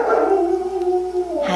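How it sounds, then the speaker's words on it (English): A dog lets out one long, drawn-out howling bark with a sliding pitch, loud and close, reacting to someone walking down the street; no one speaks over it. "Oh, the dog."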